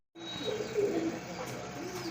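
Pigeons at a breeding farm give soft, low cooing calls close by, with a faint rustle and murmur in the background.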